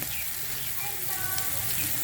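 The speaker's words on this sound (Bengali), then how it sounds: "ইলিশ মাছের ডিম ভাজা" Hilsa fish roe fries in mustard oil in a pan, giving off a constant dense sizzle and crackle that holds steady throughout.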